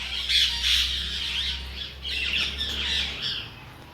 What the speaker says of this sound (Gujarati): જો કેવા બોલી રહ્યા છે પોપટ.